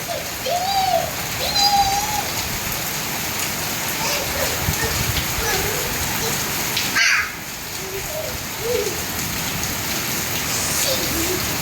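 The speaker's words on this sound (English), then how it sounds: "Rain is coming" Steady rain falling outdoors, a dense continuous hiss of drops with occasional bird chirps and distant children's voices underneath.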